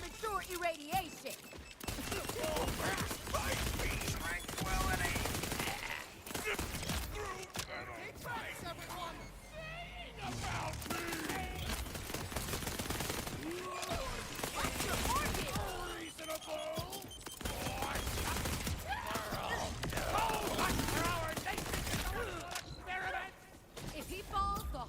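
Rapid submachine-gun fire in Borderlands 4, dense continuous bursts running through most of the stretch, with a voice talking over the shooting.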